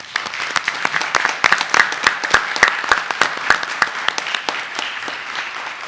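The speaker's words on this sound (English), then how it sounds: "Let's give a round of applause again to our schools." Audience members at a school district board meeting applaud with a steady patter of hand claps, a few sharper claps standing out close by, and no talk over it.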